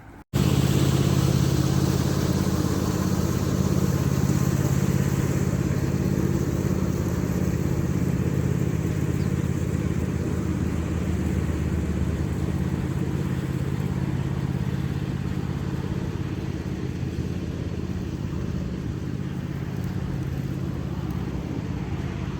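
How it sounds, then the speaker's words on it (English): A tractor engine drones steadily while mowing a wet field, a loud continuous low rumble with clattering texture and no talk. "Tractor will need some fuel shortly, so I can't do much more than that anyway without refueling."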